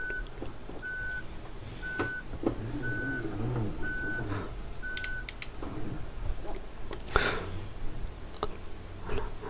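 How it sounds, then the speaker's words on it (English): Regular, evenly spaced electronic reversing beeps from a truck in BeamNG sound over a low engine rumble and scattered clicks, at a moderate level. "we got the reverse beeping sound"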